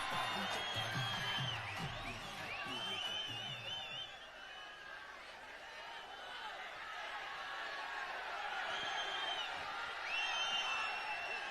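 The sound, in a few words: audience applause and cheering for Dhanush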